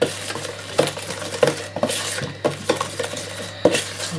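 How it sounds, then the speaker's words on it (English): A mixture for a vivarium background is stirred in a container, producing a close, rhythmic series of scraping strokes and clinks of the utensil against the bowl, each stroke distinct, under a steady low hum. "let's give it a mix and see how it looks"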